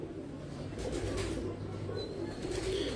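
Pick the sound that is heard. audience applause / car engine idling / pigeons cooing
pigeons cooing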